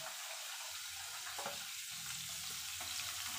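Salted fish fries in hot oil with a steady, crackling sizzle that stays close and even throughout, with a few soft knocks of a utensil and no talking.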